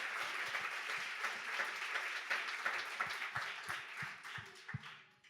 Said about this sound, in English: I would also like a big applause to the EMA team